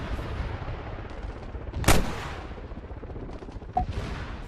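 A MAAWS rocket launcher fired in Arma 3, a single sharp blast standing out over a busy game background, followed by a fainter distant boom a couple of seconds later.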